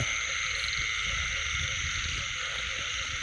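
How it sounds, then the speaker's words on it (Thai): Frogs croak loudly in a dense, continuous chorus during a rainy-season frog hunt, close by and unbroken, with no talking. "กบกำลังร้องลั่นเลยท่านผู้ชม"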